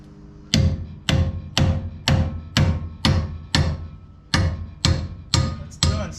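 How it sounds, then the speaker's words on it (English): Hammer blows strike the rear axle of a Toyota Land Cruiser FJ40 in a garage, eleven loud, close metallic hits at a steady pace, each ringing briefly before the next. "I'm gonna hammer this."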